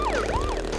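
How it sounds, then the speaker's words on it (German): A police car siren in the PS1 game Crash Bandicoot 3: Warped, a brief wailing electronic tone sweeping up and down in pitch, moderately loud over a low engine-like hum. "Zack, am Polizeiauto und da vorne sind meine lieben Autos."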